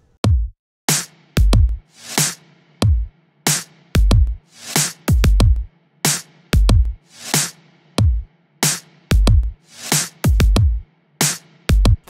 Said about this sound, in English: I wanted to add a reverse clap in there